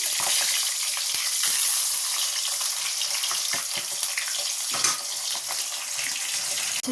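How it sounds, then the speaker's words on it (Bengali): Fish frying in a pan for a Bengali fish curry, a steady, dense sizzle and crackle of hot oil that continues without pause and with no talking. "এবার মাছটা ভেজে নিচ্ছি"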